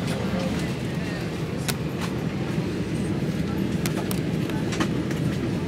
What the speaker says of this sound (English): so we're on the train, going home